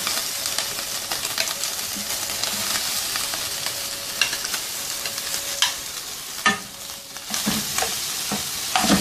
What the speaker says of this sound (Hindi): इसके बाद मैश किए हुए आलू इसमें शामिल कर देंगे